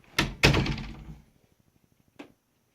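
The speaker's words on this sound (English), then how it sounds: "Close the door." A door is swung shut with a couple of close, heavy thunks in quick succession, followed by a fainter knock about two seconds later, then quiet.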